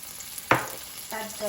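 A sudden sizzle as chopped garlic hits a hot pan, followed by steady crackling frying and faint stirring clatter.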